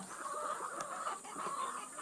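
Several hens and chicks cluck steadily at close range while being fed superworms, with soft overlapping calls and a busy farmyard murmur behind them.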